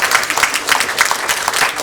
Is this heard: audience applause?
yes